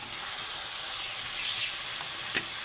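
Boiled jackfruit and potatoes sauté in a hot pan, giving a continuous, even sizzle and hiss, with one brief scrape or tap of stirring near the end.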